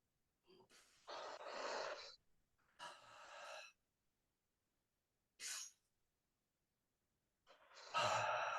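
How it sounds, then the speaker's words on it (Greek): Deep breaths taken during a group breathing exercise, four separate airy inhales and exhales spaced by pauses, close but quiet, with no talking. "And take 4 deep breaths."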